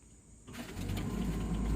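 A 1994 Toyota pickup's engine cranks as the key is turned, a low rising mechanical churn that starts after a brief quiet moment and grows louder and steadier, close by, with no talk.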